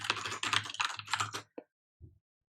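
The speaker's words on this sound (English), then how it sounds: "We're going to type in our password." Quick run of computer keyboard keystrokes while a password goes in at a terminal, a dense burst of clicks for about a second and a half, then two isolated taps after a pause, close and clear.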